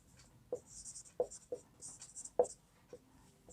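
A pen scratches across paper in short, quiet, irregular strokes while a geometry construction is written out during a class 9 maths lesson, close up with soft background hiss.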